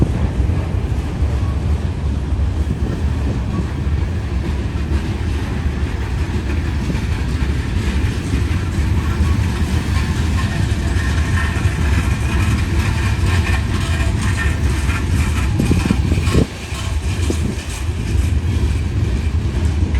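A long freight train with tanker cars rolls past a railway crossing, a steady, loud rumble and clatter of wheels on rails with heavy wind buffeting the microphone throughout.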